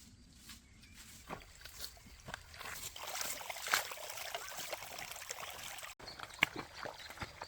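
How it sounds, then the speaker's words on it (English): Faint trickling of a diverted stream flowing into a freshly dug pit in the outdoors, a soft, steady babble with scattered splashes and light knocks, heard at low level. "cleverly diverts a nearby stream to flow into the excavated area, creating a natural mixing basin"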